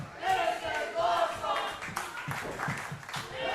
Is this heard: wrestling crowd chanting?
yes